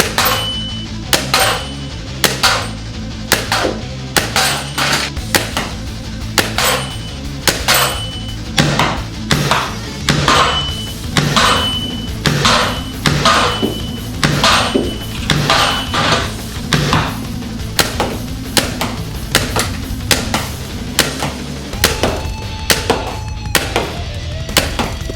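Nerf Rival Curve Shot Flex XXI-100 blaster firing in rapid, evenly spaced sharp thumps and clacks, loud and close, over about 25 seconds with no talking.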